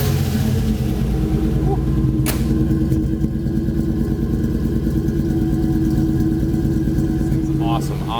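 A custom Land Rover Defender's engine runs steady and loud close by, a throbbing low rumble with a regular firing pulse and no revving. A brief click and rattle sound over it.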